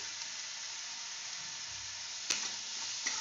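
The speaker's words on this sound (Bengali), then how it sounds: "এটাকে একটু ভালো করে নেড়ে চেড়ে আমি ভেজে নিচ্ছি" A quiet, steady sizzle of onion and pointed gourd frying in a pan with salt and turmeric, with a couple of sharp scraping taps from stirring.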